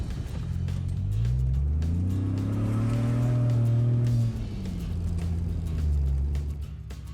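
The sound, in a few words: overland vehicle driving on off-road trail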